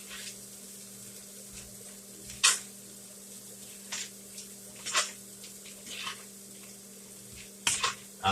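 Flour is stirred in a pan with a utensil, giving faint scattered scrapes and soft brushing taps at irregular intervals over a quiet background hum.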